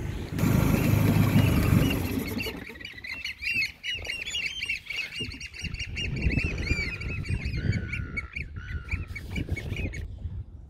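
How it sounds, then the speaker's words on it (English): Wild birds call all around a moored boat, with geese honking and squawking in repeated bursts over a busy, rumbling background, close and loud throughout. "A lot of bird life around today."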